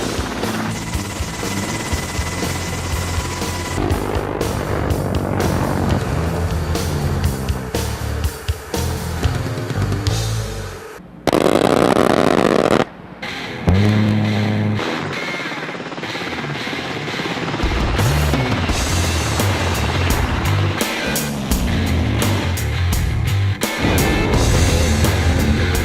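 HH-60 Pave Hawk rescue helicopter in flight at very low altitude, a loud, continuous rotor thump and turbine roar with a brief dropout and shifting pitch as it passes close.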